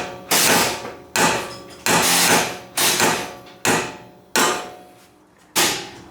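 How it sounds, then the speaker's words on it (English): A sledgehammer pounds a ball joint loose from the upper control arm of a first-generation Toyota Sequoia, with seven heavy metallic blows in an uneven rhythm, each ringing briefly before fading. The strikes are close and loud, with no talking. "your friend here is going to be a sledgehammer. Just go to town, pound it"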